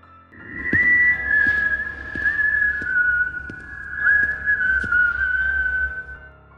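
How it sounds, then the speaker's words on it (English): A person whistles a melodic tune, a clear sustained line with small pitch shifts, fairly close, lasting several seconds with a faint low hum beneath. "the whistling started up again for a few moments"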